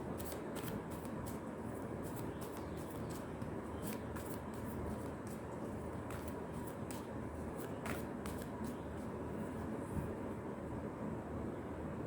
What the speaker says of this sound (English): sloppy shuffling.